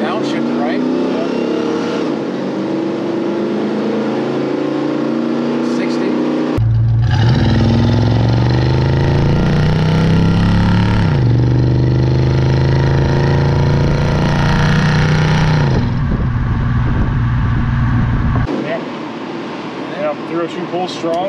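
A 1970 Ford Torino GT's 302 V8 engine with aftermarket dual exhaust revs up and pulls hard, its deep exhaust note rising and falling through gear changes, loud and close throughout.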